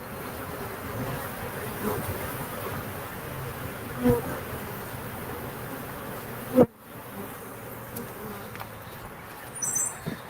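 Honey bees buzz around backyard hives, a steady close drone filling the whole stretch, with brief thumps and rustles as someone moves among the boxes.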